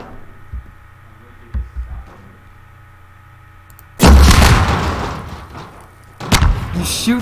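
Explosive barrels blow up in the Garry's Mod video game: after a quieter stretch with faint game sounds, a heavy booming blast erupts and rumbles out, followed by a second loud explosion near the end.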